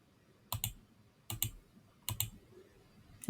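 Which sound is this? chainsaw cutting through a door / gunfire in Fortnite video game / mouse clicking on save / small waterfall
mouse clicking on save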